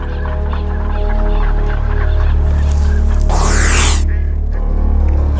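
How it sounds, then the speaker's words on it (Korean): A loud whoosh of many wings as a flock of birds bursts into flight, startled by a gunshot, with geese honking and a constant low rumble underneath. "총소리에 놀란 새들이 갑자기 날아오른다"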